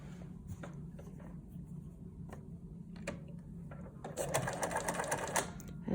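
A sewing machine stitches along the edge of a fabric mask, its steady mechanical whir running evenly and growing louder and busier in the final couple of seconds.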